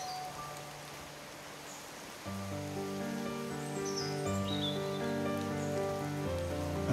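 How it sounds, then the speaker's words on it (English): Rain falling on trees along a walking trail on St Cuthbert's Way in the UK, a soft continuous hiss that carries on throughout, joined partway by a sustained droning tone that lingers to the end. "And it's still raining."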